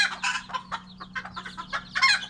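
Bantam chickens cluck in a pen, a busy run of short, close clucks and calls overlapping one another against a steady low background hum.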